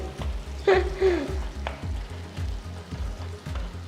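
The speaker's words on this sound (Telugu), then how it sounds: "స్టవ్ కొంచెం లోలో పెట్టుకొని ఈ కారాన్ని వేయండి, లేకపోతే బాగా స్ప్లాటర్ అయిపోతుంది" Chili powder, karam, hits hot oil in a pan and sizzles steadily with crackling pops and splatters, sharp bursts early on over a background of rhythmic kitchen thumps.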